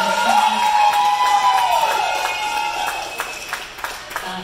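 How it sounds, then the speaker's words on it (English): A concert crowd at a cover set at a festival cheers and whoops as the set ends, a loud wash of shouts with a ringing synth tone gliding over it, then fading into scattered claps. "applause for everybody who played."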